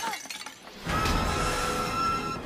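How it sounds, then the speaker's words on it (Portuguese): Window glass shatters loudly in a film trailer scene, a sudden bright crash with scattering shards ringing on for about two seconds after softer lead-in sounds. "Quebramos a janela para entrar!"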